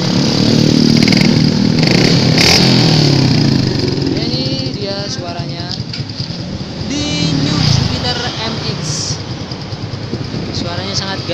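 Suzuki Satria MU150 (Thai model) with an NJMX exhaust revving repeatedly, loud and close, the engine note rising and falling through several blips while someone talks over it.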